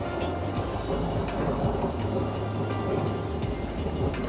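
Steady thunderstorm with rain falling throughout, a low rumble of thunder rolling underneath the continuous wash of rain, fairly loud and close with no voices.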